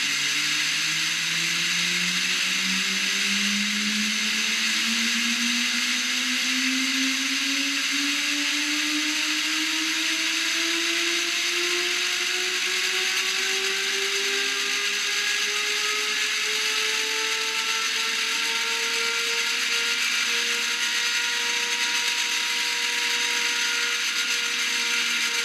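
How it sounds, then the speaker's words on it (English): A student-built turbine winds up in a shop, its whine rising smoothly and steadily in pitch over about 25 seconds over a loud, constant mechanical roar, with no talk. "Now, what you will hear is the turbine eventually winding up."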